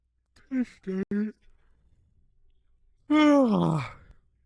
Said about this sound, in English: I keep yawning.